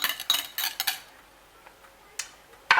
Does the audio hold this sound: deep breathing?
no